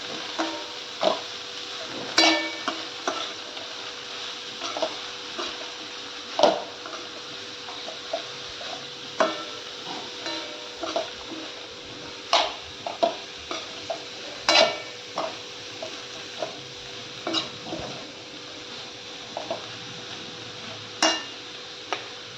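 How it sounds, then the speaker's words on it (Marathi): Shredded cabbage with chana dal sautéed in a pan, with a steady fry hiss and a spoon knocking against the pan every second or two, close and moderately quiet throughout. "आता परतून घ्यायची."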